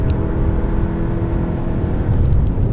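A 2020 Volkswagen Passat Elegance with a 2.0 TSI 190 PS engine drives along a mountain road, its steady engine hum and road rumble loud and close inside the cabin, with no talk.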